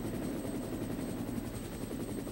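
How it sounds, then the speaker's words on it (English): Helicopter in the video game Resident Evil coming in to land, a loud steady rotor thrum and engine whine that holds constant throughout with no voices over it. "so the helicopter is going to take its time to land."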